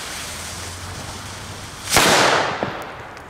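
A single loud firecracker bang cracks out after a low background hum, followed by a brief echoing tail and a smaller pop.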